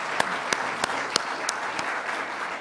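A crowd at a tribal nations summit session applauds, with a wash of clapping and a few louder claps standing out at an even rhythm.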